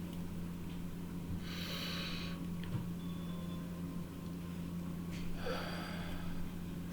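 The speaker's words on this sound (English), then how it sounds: "I'm just going to take a few deep breaths" Two slow, deep breaths taken calmly, each an audible airy inhale and exhale through the nose and mouth, close to the microphone over a low steady room hum.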